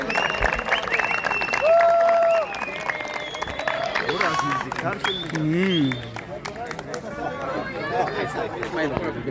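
A crowd applauds and cheers a team, clapping and excited voices blending in a dense, busy wash, with some nearby speech mixed in.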